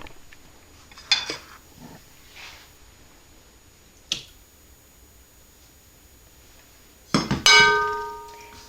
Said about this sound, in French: Nous allons d'abord mettre les 2 œufs.